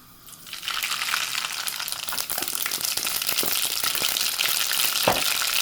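Mustard seeds dropped into hot oil already holding dried fenugreek, rising quickly to a dense crackling sizzle with scattered sharp pops and spatters that carry on steadily to the end.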